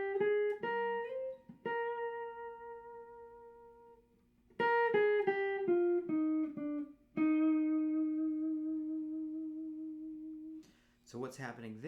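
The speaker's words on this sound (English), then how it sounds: "The other kind of vibrato is more of a rock style vibrato" Electric guitar notes with a wide, rock-style vibrato, each sustained pitch bending back and forth in pulses, several notes in sequence with brief gaps, played alone and clearly up front.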